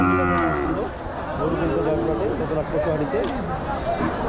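Several cattle at a livestock market in Joypurhat, Bangladesh moo loudly and repeatedly amid a busy crowd, their low drawn-out calls overlapping with background chatter.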